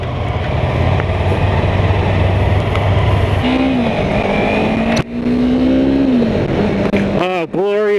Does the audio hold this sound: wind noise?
yes